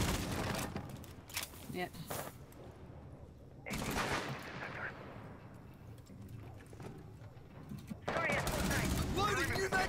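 Bursts of automatic gunfire and firefights in the tactical shooter game Rainbow Six Siege, loud volleys in clusters with quieter gaps, with a player's voice talking over the action.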